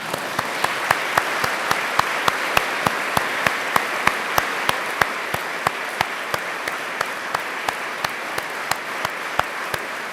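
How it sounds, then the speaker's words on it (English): At an Oxford University lecture hall, the audience claps together in strict unison, a sharp loud beat repeating evenly about three times per second for roughly ten seconds over a soft background of scattered clapping. "Can you join me in clapping you?"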